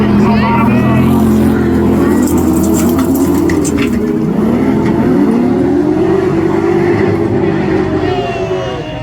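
Autograss racing cars rev their engines together at the start line at a nationals meeting, a loud droning mass of engine noise with rising and falling pitch, crowd noise and commentary underneath.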